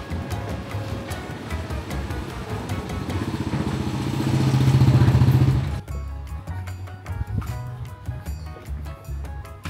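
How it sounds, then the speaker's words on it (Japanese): A motorcycle rides onto a wooden clan jetty over the sea in Penang, Malaysia, its engine swelling to a loud, close pass and then cutting away, with lighter clatter afterwards. "地元の人はバイクで入っているんだね。"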